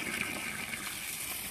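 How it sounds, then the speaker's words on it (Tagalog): Dirty, rusty water flushing out of a water softener during a backwash, a steady broadband gushing rush that runs continuously and fairly close without pause. "Labas yung mga dumi ng tubig."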